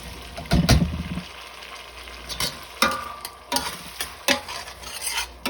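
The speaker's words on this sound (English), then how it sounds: "I'm getting ready to put a can of tomatoes" A can of tomatoes poured and stirred into rice in a hot pan, with a burst of sizzling as it goes in, then steady frying and scraping stir strokes close by.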